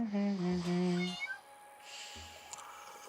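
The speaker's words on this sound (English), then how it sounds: "Yeah, the kitty's meowing." A cat meows inside the inn-management game Inn Tycoon: one drawn-out, wavering meow up front, then a quieter shorter call after a pause.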